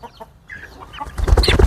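A rooster close by gives short, loud clucks and squawks, a few quiet calls at first, then a burst of louder, rapid clucking toward the end.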